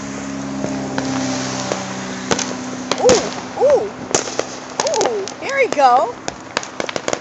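Fireworks go off outdoors on the 4th of July: sharp pops and crackles plus several rising whistles, some distant, with people talking briefly over them.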